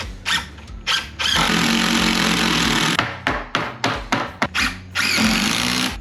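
A power tool tacks a wall stud into place while framing a window rough opening, with a long loud sustained burst of several seconds, then a series of short sharp bursts, and a final sustained run, all close up.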